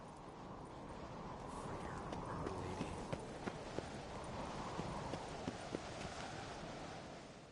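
Horse hooves clip-clop in a PS4 video game, a steady run of muffled hoofbeats with a few sharper strikes standing out, mixed under game music and ambience.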